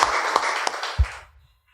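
A church congregation claps and applauds during an evening service, a broad burst of clapping that thins out and fades to quiet within a couple of seconds.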